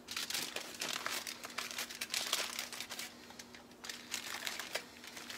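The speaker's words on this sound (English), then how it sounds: "then I roll it up in the paper, the plastic, and then the aluminum foil." Aluminum foil being crinkled and crumpled around a hand-rolled breakfast burrito already wrapped in paper and plastic, a steady close run of crisp rustling bursts with no talking.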